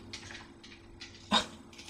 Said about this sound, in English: My dog's gruffling at something.